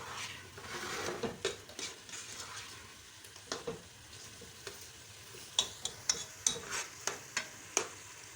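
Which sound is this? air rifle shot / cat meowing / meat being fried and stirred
meat being fried and stirred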